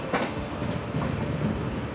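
The Repalle to Secunderabad train rolls toward a station with a dense, steady rumble and faint clickety-clack of the wheels, heard from inside the carriage at moderate volume.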